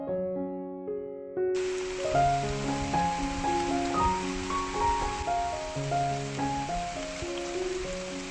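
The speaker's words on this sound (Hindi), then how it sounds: "बारिश इतनी तेज़ आ रही है" Steady heavy rain hisses throughout as it falls on trees in the Kedarghati hills, with soft background music playing under the downpour.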